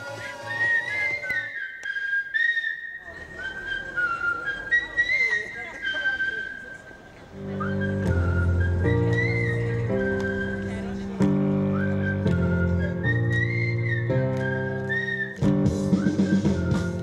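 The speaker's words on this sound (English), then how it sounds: "Clover launched legions of whistling chefs across media and the cities of South Africa" A flash mob of whistling chefs in Melrose Arch, Johannesburg, whistles a bright melody, first in thin solo lines and then in a fuller tune with steady backing chords. Each phrase is clear and loud.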